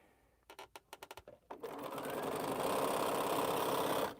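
A sewing machine stitches half square triangles for a quilt, starting with several quick separate stitch bursts, then settling into a loud, continuous close running hum that stops abruptly.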